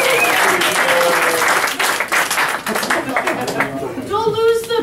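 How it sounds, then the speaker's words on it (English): An audience at a Christian improv comedy show breaks into loud, sustained applause and clapping that fills the room, tapering slightly toward the end with some crowd chatter underneath. "Give Jesus a round of applause."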